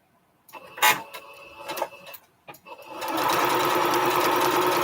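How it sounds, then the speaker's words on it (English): A sewing machine stitches quilt strips together for a Triple Irish Chain quilt: a few brief clattering starts and stops, then a loud, steady, close whirring run of stitching. "you see my sewing machine right here?"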